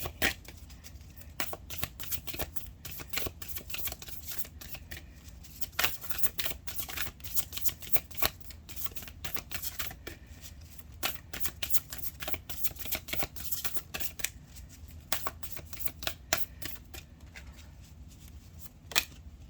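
Rose Oracle cards are shuffled continuously, with dense, rapid papery riffling and flicking that goes on steadily, close up and without talk.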